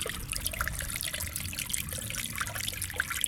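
Water splashing and trickling out of a homemade Africa-themed garden fountain, a steady close patter with small drips and gurgles, no talking.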